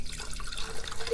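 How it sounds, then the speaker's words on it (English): Water pours steadily into a clear glass jar being filled for a hydroponic Kratky setup, a continuous close splashing trickle with no voices. "you're able to see exactly how much water you're pouring in"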